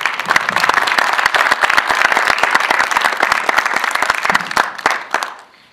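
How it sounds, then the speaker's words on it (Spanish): Conference audience at a political lecture gives a speaker a loud round of applause, many hands clapping briskly and close together before the sound fades away at the end. "les pido un aplauso para ella"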